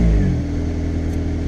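Acura RSX Type S with an HKS cat-back exhaust revs close by, a loud raspy engine burst that settles into a steady rumbling idle.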